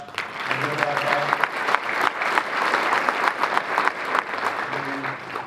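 Sustained applause from a crowd, dense clapping at a steady level throughout with faint voices underneath.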